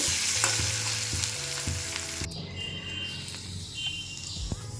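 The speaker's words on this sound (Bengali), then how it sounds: "কড়াইয়ের মধ্যে বেশ কিছুটা তেল দিয়ে দিয়েছি, তার মধ্যে কালো জিরে ফোড়ন দিয়ে দিচ্ছি" Hot oil sizzles loudly as nigella seeds hit the pan, the crackling hiss fading quickly after a couple of seconds.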